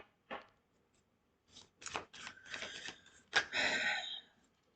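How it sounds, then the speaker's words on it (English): Tarot cards are shuffled by hand in quick papery riffles and snaps, a few separate flicks then a longer burst of shuffling, close and quiet. "I'll just do a bit of a shuffle and see if there's any other cards that want to come out."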